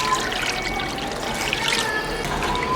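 Steady running water rinsing fish roe and swim bladders from a large fish, a continuous splashing trickle at close range, moderately loud with no talk.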